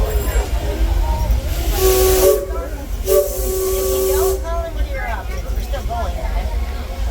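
The Disneyland Railroad steam train, locomotive Ernest S. Marsh, hisses loudly and blows its whistle in two long blasts, with a voice speaking in the background.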